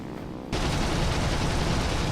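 Fw 190 A4 7.92 mm machine guns firing in War Thunder, a steady dense rattle of rapid automatic fire that starts abruptly and continues loud and unbroken.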